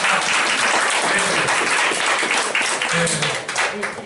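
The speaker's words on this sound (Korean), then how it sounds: "우리 박수 한번 드리겠습니다" A church congregation at a Korean Thanksgiving Sunday service claps together, a dense loud wash of applause filling the room throughout, with some voices mixed in underneath.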